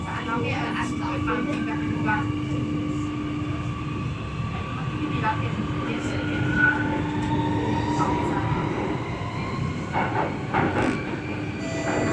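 A Singapore SMRT Circle Line Alstom C830 metro train running steadily between Marymount and Bartley, with continuous rumble, rail rattle and occasional squeals from the wheels, with voices faintly in the background.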